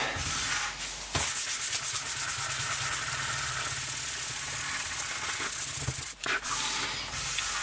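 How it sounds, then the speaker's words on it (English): Steady, rhythmic abrasive rasping of sandpaper on a wooden PRS-style kit guitar body, loud and close, continuing almost without pause before a brief break near the end. "Moving the whole camera around a bit whilst we're sanding it."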